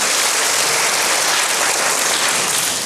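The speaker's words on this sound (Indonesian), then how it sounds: "Berikan tepuk tangan dulu bagi Tuhan." Church congregation applauding, a loud, dense, continuous wash of clapping filling the room without pause.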